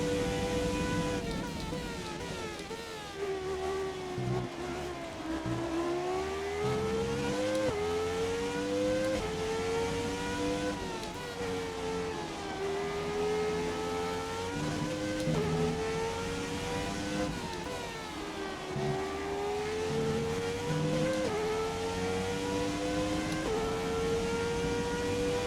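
A Formula 1 car engine in a classic F1 championship racing game drones continuously at high revs, its pitch rising and dipping through gear changes and corners over a long stretch, loud and unbroken.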